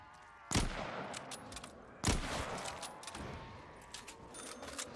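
Automatic assault rifle in Black Ops 3 zombies mode, two sharp loud gunshot bursts about a second and a half apart, followed by metallic clinks and rattles.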